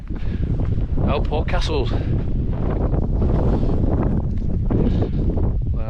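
Wind buffeting the microphone on a hilltop hike to Alport Castles in the Peak District, a loud constant rumbling roar throughout while someone talks over it.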